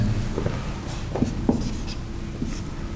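A lecturer writes on a board during a university lecture, with scattered taps and scratchy strokes over a steady room hum.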